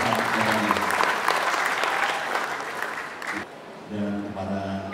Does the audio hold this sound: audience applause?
yes